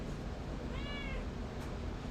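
A cat meows once, short and faint, beneath steady broadband background noise, with no talking.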